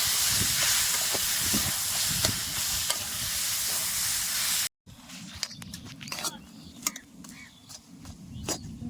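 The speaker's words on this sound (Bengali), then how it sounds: "হিং সুন্দর ভাজা ভাজা হয়ে গেছে এবারে আমি ডাল আর আলুগুলো দিয়ে দেবো" Lentils and potatoes hit hot oil with fried asafoetida and carom seeds for a kachori filling, hissing loudly before a cut, then sizzling more quietly under clattering stirs and occasional voices.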